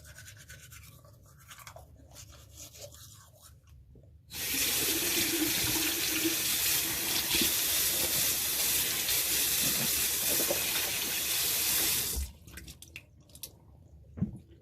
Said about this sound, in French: Je rince ma brosse à dents.